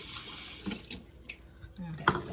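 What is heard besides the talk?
water poured in for meatloaf wild rice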